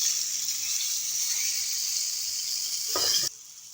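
Continuous loud sizzling of rabbit meat frying in a pan, with a brief burst of running water near the end before the sizzle continues more quietly.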